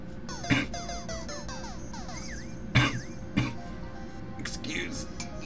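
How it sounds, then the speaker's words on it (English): A few sharp coughs, about three distinct bursts spaced a couple of seconds apart, close and loud over a busy background of tones and chatter. "Excuse the coughing."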